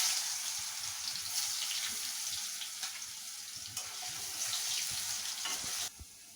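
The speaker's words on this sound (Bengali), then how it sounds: "এর মধ্যে আমি একটা আলু ডুমো ডুমো করে কেটে নিয়েছি, তেলের মধ্যে দিলাম, দিয়ে ভেজে তুলে নেব।" Diced potatoes fry in the oil left from frying a fish head, giving a steady, fairly loud sizzle with scraping stir strokes and clinks throughout, for a Bengali muri ghonto.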